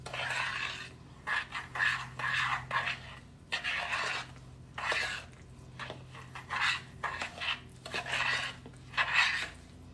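A spoon scrapes and clinks around a pot as sugar is stirred into brownie mixture, in repeated rhythmic strokes that are close and fairly loud over a faint background hum.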